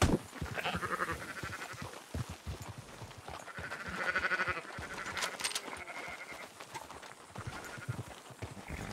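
Sheep and goats bleat repeatedly at close to middle distance while a flock is gathered and driven back toward the yards, with many overlapping calls and some hoof clatter, and no talking.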